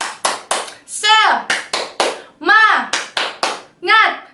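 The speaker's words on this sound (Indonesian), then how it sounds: "Tepuk semangat" Children at a Sunday school service clap out a rhythmic spirit-clap pattern in sharp, loud bursts, with group chanting voices between the claps.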